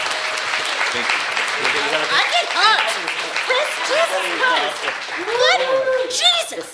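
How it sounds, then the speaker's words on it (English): Audience applause at an Ignite Denver talk event, loud and continuous clapping with cheers and excited voices rising over it, and a nearby speaker talking briefly through the noise. "Give him another round of applause"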